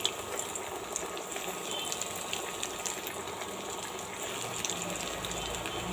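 Steady, dense sizzling and bubbling of kothimbir vadi snacks deep frying in hot oil over medium flame, continuous and fairly close with no talking.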